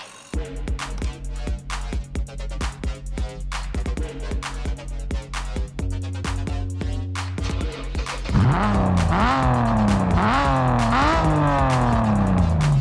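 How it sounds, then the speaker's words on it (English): Racing car engine in a mobile racing video game starts up and revs, a steady rhythmic idle giving way to a loud rising and falling revving whine through the second half. "Get in the car and start the engine to hear it rev."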